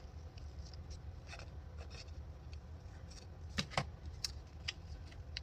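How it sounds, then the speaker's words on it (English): Scissors snipping the white edge off a planner sticker, several faint, sharp cuts scattered over a soft steady background, the loudest pair close together near the end. "I'm going to cut the white off."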